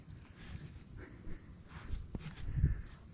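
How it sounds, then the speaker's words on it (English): Insects outdoors by the water on a bass fishing trip, a steady high thin chirping drone behind faint low rustling and bumps nearby. "Damn bugs, it's terrible in here, I'm telling you."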